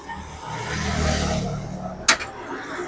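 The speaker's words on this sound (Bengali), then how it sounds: "দেখে নিন গাড়ি এখন ইঞ্জিন স্টার্টে" Seven-month-old motorbike idles at a showroom, a low steady engine rumble that swells gently and then eases back, with a short sharp click near the end.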